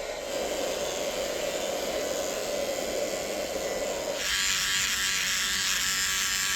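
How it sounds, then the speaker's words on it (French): Electric razor buzzing continuously up close during a shave in a camper van on the road near Taravao, Tahiti; a steady whining hum that brightens and intensifies partway through. "c'est juste pour utiliser le rasoir électrique"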